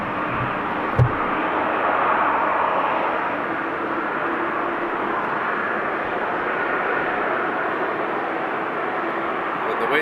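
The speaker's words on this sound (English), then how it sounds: "the way this Delta is taxiing actually shows me that it's going to the 24" A Delta airliner taxis at Amsterdam Schiphol Airport, its engines giving off a steady, broad, moderately distant roar that holds for the full ten seconds, with one brief sharp knock near the start.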